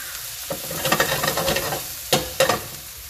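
Onions and green onion sizzling in a stir-fry pan with ginger, a bright crackling hiss with a cluster of stirring scrapes in the middle and two sharp utensil knocks near the end, close and loud, no talk.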